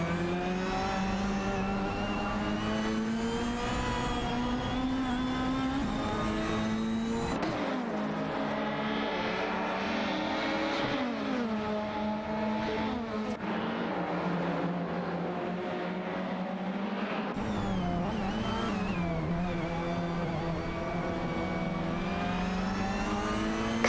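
Racing video game cars, a Ford Mondeo and Peugeot 406 among them, roar continuously with engines revving up and down through gear changes, loud and close throughout with no talk.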